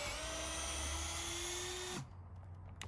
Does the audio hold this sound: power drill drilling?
yes